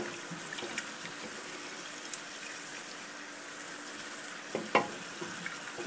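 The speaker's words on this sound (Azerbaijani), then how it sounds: "Və ətlə soğanla birlikdə bu haşlanmış, bişmiş fasulyaları da qızardıram." Boiled white beans fry in a pot with meat and onion, making a quiet, steady sizzle with a few faint clicks and a brief louder clatter near the end.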